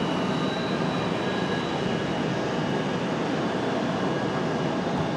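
Steady, loud jet roar of a Boeing 717 airliner at Charlotte airport, an unbroken broadband rush with faint whining tones and no variation across the stretch.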